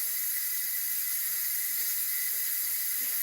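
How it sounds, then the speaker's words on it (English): Steam hisses steadily from an electric pressure canner processing pork in a home kitchen, a continuous bright, airy hiss at moderate level with no voices. "I can audibly hear that steam"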